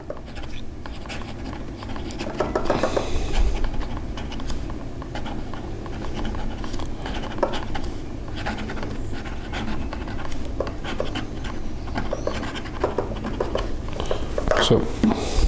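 A Zebra G flex nib on a Jinhao X450 fountain pen scratches across paper, a continuous dry rasp of strokes running beneath someone talking.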